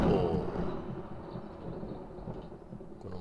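Thunder in the survival game 7 Days to Die, a low, loud roll that opens strongly and trails off into a steady distant rumble with a faint wash of rain.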